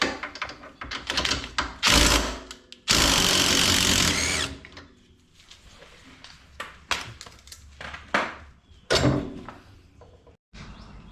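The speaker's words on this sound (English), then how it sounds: "just take your bolt out of your shock at the bottom." Bottom shock bolt being removed with a power tool on a 2021 Can-Am Defender XMR, with loud bursts of whirring and rattling impacts between clanks and handling noises, close up.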